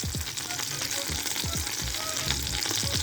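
Chicken thighs pan-searing with garlic butter give off a loud, dense sizzle close by, with low thumps and scrapes from the pan or utensil recurring at a regular pace.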